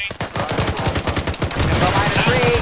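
Rapid bursts of automatic gunfire crackle in an Arma 3 battle, loud and closely spaced, with a couple of thin tonal beeps toward the end.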